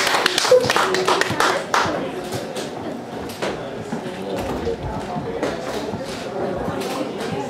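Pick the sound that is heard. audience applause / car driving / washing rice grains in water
audience applause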